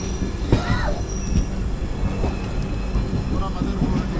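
Mangala Lakshadweep Express (12618) rolling out of Mangaluru Junction at night, heard from inside as a steady low rumble of wheels on rails with faint squeals and clanks throughout.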